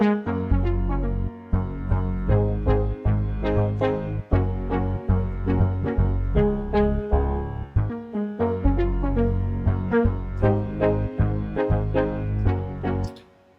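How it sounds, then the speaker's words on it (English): A soft synth keys layer doubles a grand piano over a bass line, playing steady chordal music with rhythmic attacks throughout and a brief pause near the eighth second. "This Cosy sofa keys, it's like parallel layer to the grand piano and enhances the tone."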